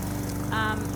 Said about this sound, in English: Sorry about the lawnmower.